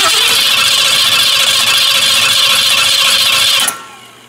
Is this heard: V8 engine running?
yes